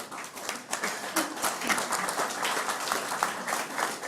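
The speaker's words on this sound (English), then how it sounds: "They appreciate your applause" An audience at the 2012 Golden Conch Regatta award ceremony gives sustained, lively applause for the race committee volunteers, many hands clapping together at a close, even level throughout.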